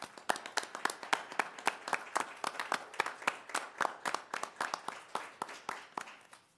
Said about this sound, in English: I'd like to have you join me in a round of applause